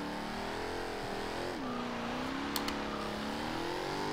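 A 2015 Jaguar F-Type R Coupe with a 5-liter V8 accelerating in Forza Horizon 2, a loud continuous engine roar that dips briefly at a gear change and then climbs again in pitch, with no talk.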